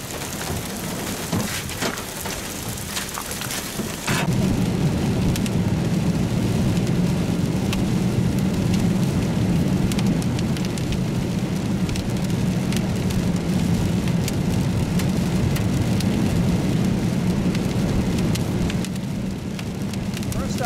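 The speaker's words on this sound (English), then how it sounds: "We have hail to show you." Hail from a large storm in Springfield, Colorado pounds steadily on surfaces nearby, a dense, continuous clatter and roar that swells after a few seconds of lighter noise and holds for the rest of the clip.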